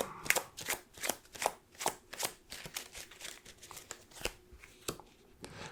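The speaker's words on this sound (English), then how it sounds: "Why do I shuffle randomly like that?" A casino dealer in a back-alley betting roleplay shuffles a deck of playing cards, giving a rapid series of crisp, close riffling bursts in an irregular rhythm.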